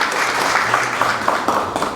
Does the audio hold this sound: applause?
yes